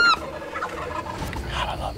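A wild turkey gobbles on a cold Texas morning, one rolling, warbling call heard at a moderate distance in the open air after a brief high whistle-like tone.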